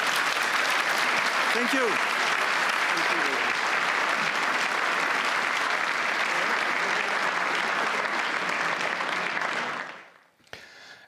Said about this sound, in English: offer a round of applause to our speakers